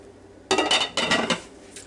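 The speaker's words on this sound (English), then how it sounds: "Put the lid on it." A lid set onto a crock pot filled with beef chuck roast, potatoes, carrots and onions: two close, bright clattering clinks about half a second apart, then a faint rattle as it settles.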